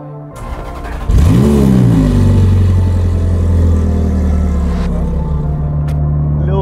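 A Ferrari with a straight pipe exhaust starts up with a sharp bark and rev, then settles into a loud, deep, steady idle as the engine warms, close and dominant throughout.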